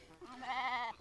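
A single sheep on a small country farm lets out one close, wavering bleat lasting under a second, alone without talk.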